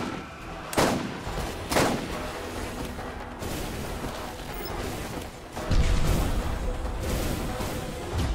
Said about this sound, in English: Okay, stop shooting at me.